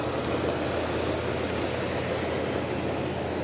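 A 1983 Oldsmobile Delta 88 Royale engine runs at a smooth, steady idle, a constant even hum with no one talking.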